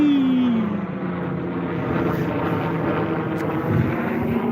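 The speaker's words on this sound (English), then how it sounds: "this helicopter likes to go fly by" A helicopter flies past overhead, a loud, continuous rotor and engine drone with a falling pitch as it passes close by, mixed with wind noise on the microphone.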